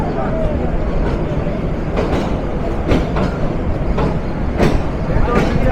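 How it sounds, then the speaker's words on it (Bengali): The Silk City Express intercity train from Rajshahi to Dhaka rumbles loudly along the rails, heard from on board with a steady roar and periodic clacks of wheels over joints, while a voice talks over it. "একদম রাইট টাইমে 7:40 মিনিটে যাত্রা শুরু করলো আন্তনগর সিল্ক সিটি এক্সপ্রেস।"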